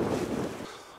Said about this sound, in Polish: przestał padać śnieg, lekko wieje wiatr